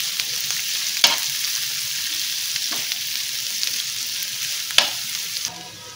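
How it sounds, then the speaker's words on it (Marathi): Sliced onions frying in a pan until golden brown for butter chicken, a steady close sizzle with two sharp clanks of a spoon against the pan. "कांदा असा आपल्याला छान गोल्डन ब्राऊन करून घ्यायचा आहे।"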